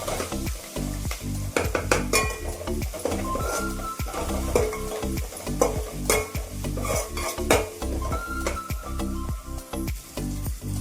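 Ginger garlic paste and turmeric frying in a pan for a fenugreek and broad bean curry, a close steady sizzle broken by repeated rhythmic scraping and stirring of a utensil against the pan.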